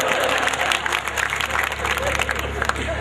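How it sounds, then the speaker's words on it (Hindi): Audience at a Hindi satire kavi sammelan breaks into loud, dense applause, a steady burst of many hands clapping close by for the full stretch. "इसके लिए जोरदार तालियां तुम भी बजाओ।"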